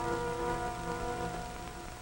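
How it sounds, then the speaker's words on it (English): Steady rain falls in a continuous, even wash through a gloomy valley, heard close and moderately loud with a faint tonal hum running beneath it and no voices. "Rain. Rain for more days, days running into weeks."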